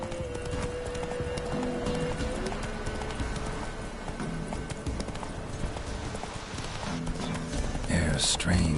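Hooves of Roach, the horse in The Witcher 3, pound out a steady galloping clip-clop beneath game music and ambient sound, with a short neigh-like burst near the end.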